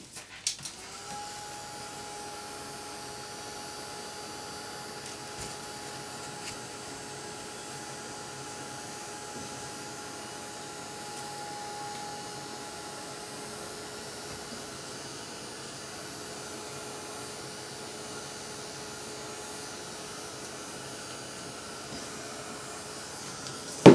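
A hair dryer or heat gun drying acrylic ink on a mixed media art journal page gives a steady whirring hum that holds at an even, moderate level throughout, with no talking.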